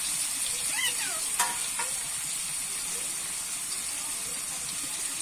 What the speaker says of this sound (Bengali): আমার কিন্তু আলু, শিম, বেগুনটা ভালোভাবে ভাজা ভাজা হয়ে গেছে